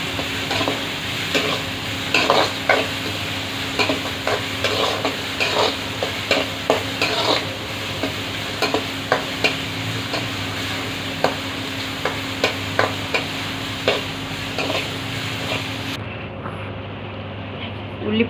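Onions frying on high flame in a pan for fish curry, a steady sizzle with frequent scraping stirs of the spoon, and a voice talking throughout.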